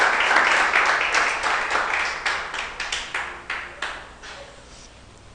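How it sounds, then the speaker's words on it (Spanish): Church congregation applauding during a sermon, a burst of clapping that starts dense and loud, then thins into scattered claps that fade out. "Dale un aplauso al Rey"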